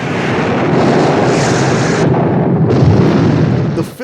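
A loud, sustained roaring blast from a space shuttle ignition in the 1979 film Moonraker, dense broadband rumble lasting several seconds before cutting off abruptly.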